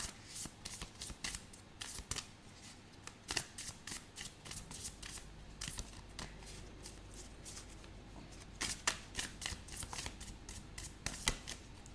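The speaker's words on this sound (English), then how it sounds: "I need to change my shuffling style with decks like this" A sticky tarot card deck is shuffled by hand in repeated quick bursts, a papery ruffling and snapping that keeps coming back for several seconds. It sounds close but quiet, with no talking.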